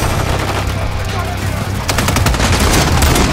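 Gunfire in the Call of Duty MW3 multiplayer match: loud, continuous rapid automatic bursts, dense and close, with shouting voices mixed in.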